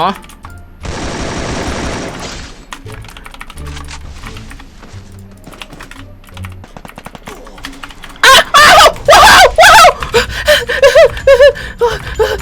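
Gunfire in the Free Fire mobile battle game sounds in rapid bursts, loud and close, over the player's excited talk and keyboard-like clicks, with a harsher run of shots near the end.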